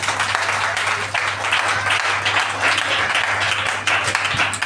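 A church congregation applauds at length during a worship service, a dense, steady wash of clapping that holds at an even level throughout with no pauses.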